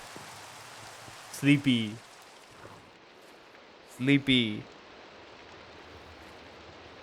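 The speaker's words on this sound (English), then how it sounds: "Okay, it's raining and it's dark." Steady rain in the Minecraft video game, a constant soft hiss of falling drops running throughout while a voice speaks two short words over it.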